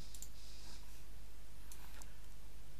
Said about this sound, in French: alors on clique sur ce bouton.